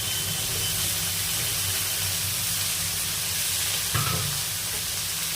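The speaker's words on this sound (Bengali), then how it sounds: "এবারে এই আলুগুলো দিয়ে দিচ্ছি এর মধ্যে" Potatoes hiss and sizzle in a pan of prawn and onion curry, a steady close frying sound with a single soft thump partway through as they settle into the oil.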